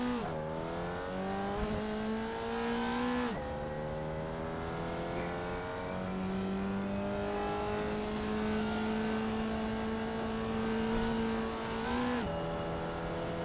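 A Formula Vee race car circles Lime Rock Park in iRacing, its engine holding a steady buzzing drone with brief lifts and gear changes, loud and continuous with no talk.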